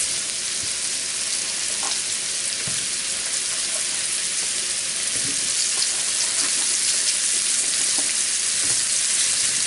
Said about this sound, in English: You want to brown these mushrooms really good.